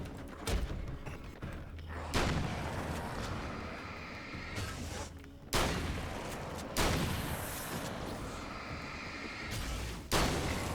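Heavy shotgun blasts in the video game Alan Wake's American Nightmare boom out one at a time at uneven intervals, five or six loud reports, each trailing into a rumbling echo.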